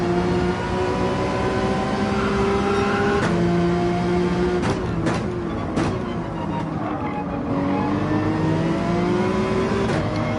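Race car engine in Gran Turismo 7 hums loudly and continuously, its pitch sliding down under braking and climbing again through the turns, with a few sharp clicks and knocks along the way.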